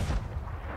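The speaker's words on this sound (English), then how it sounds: "I shot the cannon" A ship's cannon in the Sea of Thieves game fires once, a sudden heavy boom that decays into a rumbling tail within a second.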